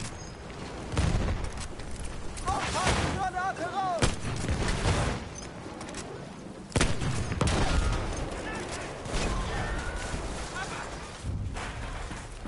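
Pistol shots ring out in a video game, a handful of sharp separate cracks spread across several seconds, with a person talking between and over them.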